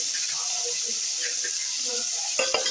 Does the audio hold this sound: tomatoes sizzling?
yes